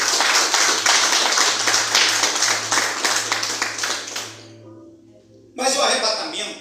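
A church congregation clapping for Jesus during a sermon on the rapture, a loud, dense round of applause for about four seconds that dies away before a preacher's voice resumes.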